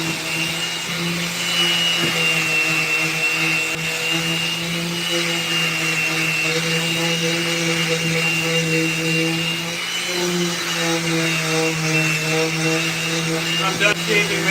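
Shaving and shaping a wooden skateboard deck: a loud, steady motorized drone with a constant hum and grinding hiss runs unbroken, close to the microphone.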